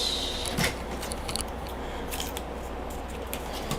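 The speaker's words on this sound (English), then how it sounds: "And we're going to trim it." Scissors trimming paper for a handmade card, a close, continuous crisp snipping and slicing through the sheet over a steady background hum.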